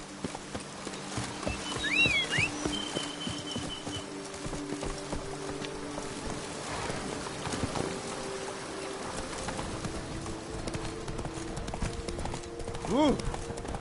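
Steady horse hooves clip-clopping along in The Witcher 3 under continuous game ambience, with a few brief voice-like tones and occasional speech during the run.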